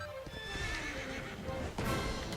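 In the video game Dragon Quest XI, a horse neighs loudly with a rising whinny over rapid clip-clopping hooves, then a second whinny bursts out near the end of the short clip.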